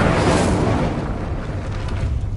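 Incendio fire spell cast in Hogwarts Legacy, a loud roaring whoosh of flame that bursts at once and slowly fades over a couple of seconds, heard alone without talk.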